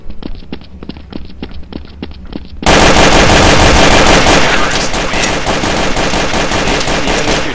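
Pistol gunfire in Counter-Strike: Source, starting as a regular run of separate sharp shots, then bursting into a loud, dense, nonstop volley of rapid fire.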